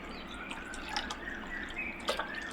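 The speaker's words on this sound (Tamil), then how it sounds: "இதுக்கப்புறம் நம்ம வேணுன்ற அளவு நம்ம தண்ணி சேர்த்துக்கலாம்." Water is added to a pot of tomato rasam, heard as quiet, intermittent drips and small splashes over a soft background hiss.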